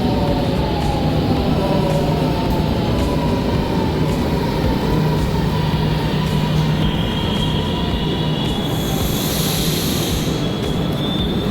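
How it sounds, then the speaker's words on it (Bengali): A metro train rumbles steadily nearby, its wheels whining and a high squeal rising near the end as it pulls in. "ট্রেন চলে আসছে"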